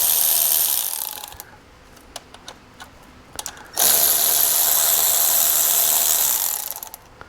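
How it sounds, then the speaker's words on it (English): A power tool spins loose the valve cover bolts on a 2JZ-NAT engine in two close, loud whirring bursts, with a pause of small clicks and taps between them. "Then you can come in with your power tool and get them loose quickly."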